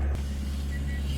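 A sailing boat motors along under engine power in light wind on a passage through the Bahamas, a low, steady engine hum with constant throb and no talk over it.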